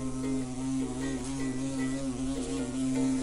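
A steady, continuous buzz of flying insects, a wasp among them, in a garden, loud and close with a droning hum that never stops and no voices.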